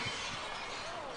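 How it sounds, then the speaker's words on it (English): A glass-shattering sound effect plays over the stadium speakers at a baseball game after a foul ball flies out of the park toward a parking lot. It is a continuous bright crash and tinkle of breaking glass, loud and filling the short moment. "You hear the glass shattering sound effect."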